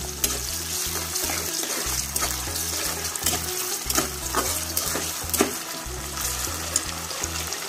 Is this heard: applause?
no